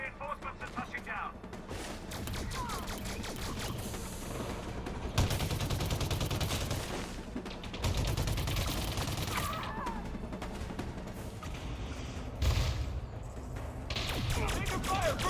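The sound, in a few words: gunfire in the video game Elite Dangerous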